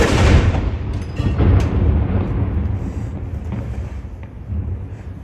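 A Royal Artillery gun fires a salute at Edinburgh Castle: a heavy, booming blast that rolls and fades outdoors under wind noise, then a second, weaker rumble follows.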